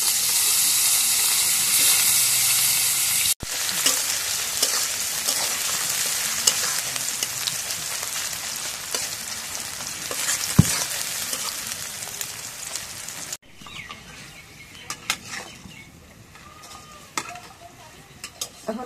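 Onion drops into hot oil in a karahi and sizzles loudly and steadily up close, with occasional stirring clinks; the frying quiets noticeably near the end.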